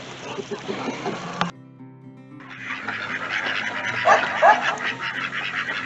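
Ducks quack and honk in a busy cluster nearby, mixed with a dog barking and someone speaking over the noise.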